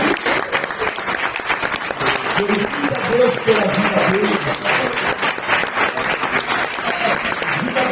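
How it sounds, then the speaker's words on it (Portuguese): Congregation in a Portuguese-language evangelical church service clapping for a brother, a steady dense applause running throughout while a preacher talks over it. "Você pode dar uma salva de palmas pela vida do irmão que está aqui do lado."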